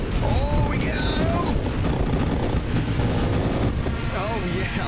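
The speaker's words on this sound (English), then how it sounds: "Oh, yeah, look at those explosions" Explosions in the space roguelike game Nova Drift rumble as a dense, continuous roar of noise, with excited voices talking over the blasts.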